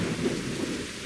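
Steady rain pours down in the video game Better Late Than Dead, a continuous broadband hiss with a low storm-like rumble underneath, fairly loud and unbroken, with no voices.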